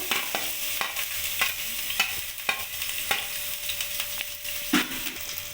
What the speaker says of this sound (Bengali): রসুন আর কাঁচা লঙ্কাটা একটু ভেজে নেব।